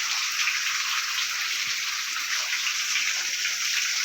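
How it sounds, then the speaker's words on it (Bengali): Heavy rain falls steadily outside a home veranda, a constant hiss of close, dense rainfall with no breaks and no talking. "দেখো বৃষ্টি পড়ছে।"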